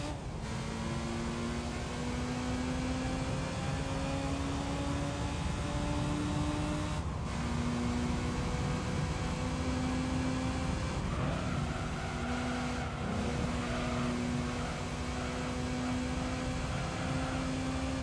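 A Mazda MX-5 Miata engine in Gran Turismo 3 drones loud and steady, its pitch climbing through each gear and dropping sharply at the shifts. Nothing else intrudes on the continuous mechanical hum.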